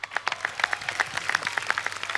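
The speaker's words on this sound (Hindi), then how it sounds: "इनके लिए जोरदार तालियां।" A studio audience at a comedy talk show claps, with crisp individual handclaps forming a brief, lively round of applause nearby.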